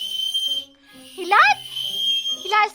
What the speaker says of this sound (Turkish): Düdüklerini de çalın ben de size bir bakayım nasıl yapıyorsunuz.